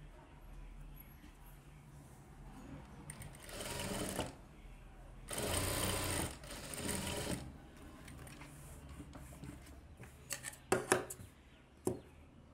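A tailor's sewing machine stitches a blouse back neck in two loud rapid bursts of needle chatter, separated by quieter handling, then a few sharp clicks and taps of fabric and tools near the end.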